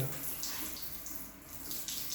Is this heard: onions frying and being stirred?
no